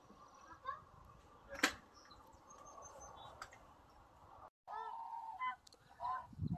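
Several geese honk outdoors amid a background of chirping birds, with one sharp call standing out and a brief pause before the calls resume.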